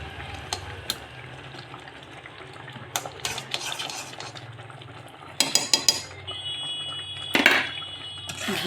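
A spoon stirs ghee into Gobindobhog rice payesh in a pot, scraping and clinking against the metal in irregular strokes, with a few sharper knocks and a soft background hum.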